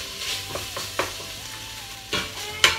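Beef mince browning in a pan gives a soft continuous sizzle, with a few sharp scraping clicks from stirring scattered throughout, heard up close and fairly quiet.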